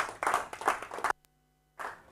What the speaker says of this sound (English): Please, round of applause for AWS.